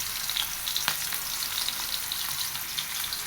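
Potato and carrot fry in oil for a mixed-vegetable shukto, giving a close, continuous crackling sizzle with light bubbling pops and one brief stir, and no voices.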